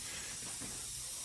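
Compressed air hisses steadily through a pressure regulator in a garage workshop, a faint, continuous breathy rush lasting only a moment.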